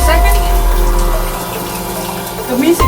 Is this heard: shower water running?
yes